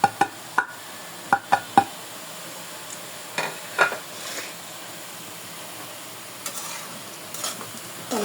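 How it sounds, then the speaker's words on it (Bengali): Kalai saak greens fry in a pan with dried chilies, a low hissing sizzle punctuated by sharp clacks and scrapes of a stirring spoon, close by and uneven, with no talking. "আমি শাক ভাজি"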